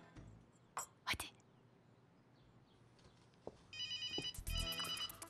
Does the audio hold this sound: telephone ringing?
yes